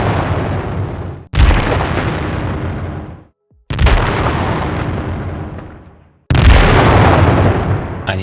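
Three heavy synthetic gunshot effects built from layered elements for a game, each a loud booming burst with a long decaying tail, separated by brief silences and varying slightly from shot to shot.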